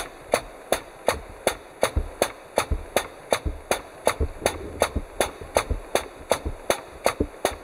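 An air-operated diaphragm pump on an Apex filling system runs while filling a tank, giving a steady, rhythmic train of sharp clacking pulses at about two to three per second over a low mechanical rumble.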